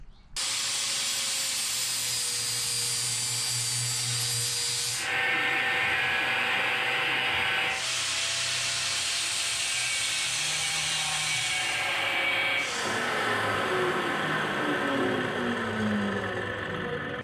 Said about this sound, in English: I'm cutting gussets. These will be for our lower shock mounts here.